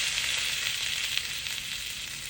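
Venison tomahawk steaks sear in a hot, smoking pan, giving a loud, steady, close sizzle that holds evenly throughout with no talk.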